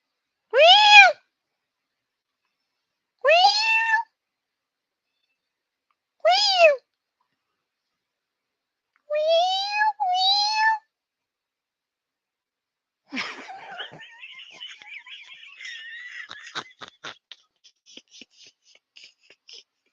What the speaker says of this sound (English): Oh, there go kitty.